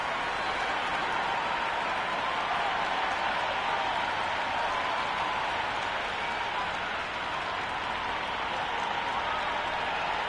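A cricket stadium crowd at an India vs South Africa T20 match in Dharamsala roars and applauds in a dense, continuous wash of cheering that holds steady throughout.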